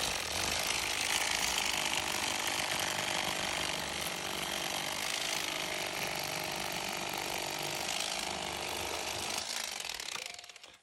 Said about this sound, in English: We use the Rapala cordless electric fillet knife to get the fillets off.